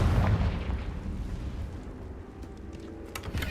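A fire-spell explosion in the Hogwarts Legacy video game, a loud booming blast that rumbles and fades over a few seconds.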